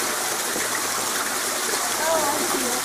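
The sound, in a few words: waterfall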